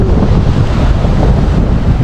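Strong wind buffets the microphone in a steady, loud roar with no letup, with a faint wash like surf beneath it and no voices.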